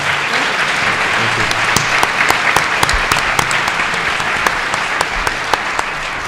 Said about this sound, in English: Let's give them a round of applause now.